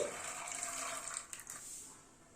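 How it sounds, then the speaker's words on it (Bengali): About 200 g of overnight-soaked dried peas are tipped into hot water in a pressure cooker, giving a brief close splash and a wash of watery hiss that fades away. "প্রেসার কুকারে জলটা গরম হয়েছে, মটরটা দিয়ে দিচ্ছি।"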